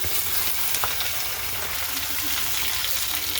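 Sliced okra and onion fry in hot oil in a pan while being stirred, giving a dense, loud, continuous sizzle throughout.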